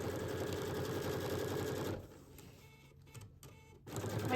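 A sewing machine stitches fabric binding in a fast, even mechanical chatter for two seconds, pauses, sews a few short backstitch bursts, then starts running again.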